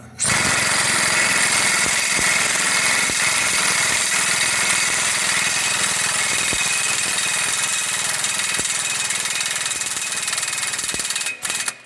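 An impact wrench drives a wheel stud on a Ford Transit van rear wheel in one loud, continuous rapid hammering burst, close and harsh, stopping abruptly near the end.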